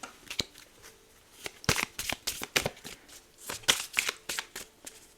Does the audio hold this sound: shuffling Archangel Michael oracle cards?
yes